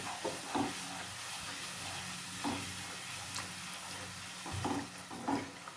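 Whole spices frying in a pan for chicken kosha give a continuous sizzling hiss, with a few soft scrapes of stirring rising and falling across the stretch.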